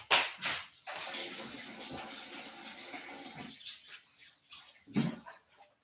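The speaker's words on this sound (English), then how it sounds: "Washing hands, right, hands are washed, okay." Water runs from a tap while hands are washed at a sink, a soft, fairly quiet splash that swells and fades, with a couple of brief louder splashes, and no talking.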